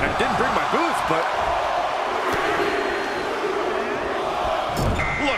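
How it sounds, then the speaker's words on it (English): Arena crowd in a women's Royal Rumble wrestling video game roars continuously at steady loudness, with thuds and ring impacts breaking through and a commentator-like voice over it. "Just listen to the crowd."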